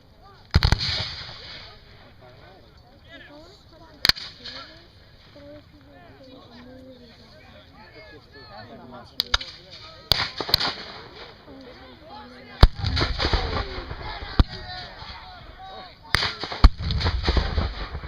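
Artillery and musket fire at a Civil War reenactment in Chehalis, Washington: sharp, scattered cracks and booming reports, some distant and some nearer, spaced irregularly with a denser volley near the end, under a narrator's ongoing talk.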